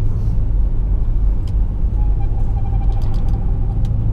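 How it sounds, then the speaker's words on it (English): A car heater blows steadily inside a moving car on a cold morning drive, its fan hiss blended with low engine and road rumble, with faint clicks and rattles. "The heater's making noise."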